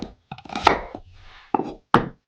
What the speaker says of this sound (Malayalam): ഉള്ളിയെല്ലാം അരിഞ്ഞെടുത്തു